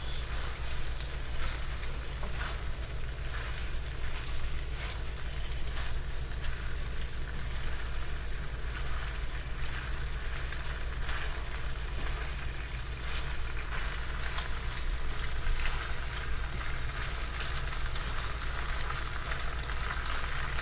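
Beef pepper steak frying in a pan gives a steady, dense sizzle that runs without pause, a continuous crackling hiss with no voices over it.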